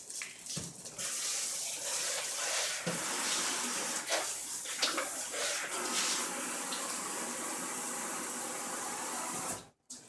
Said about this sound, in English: Let me go rinse these real quick.